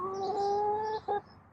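A backyard chicken gives a short, close, tonal call, a sustained note followed by a brief second one, with no voices nearby.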